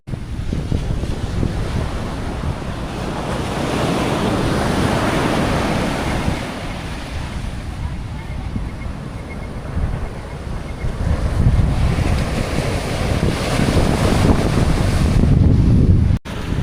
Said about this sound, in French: Puis il y a quand même des méchantes grosses vagues.